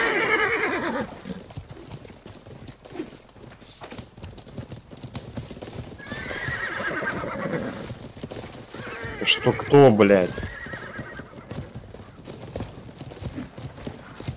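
Horse hooves clip-clop steadily in the game Life is Feudal, with a loud whinny near the middle, under scattered voices talking.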